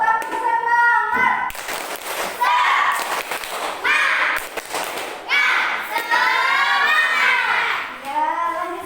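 Schoolchildren in a classroom perform the tepuk semangat chant, loud shouted voices alternating with bursts of rhythmic group clapping and thumps, close and energetic throughout.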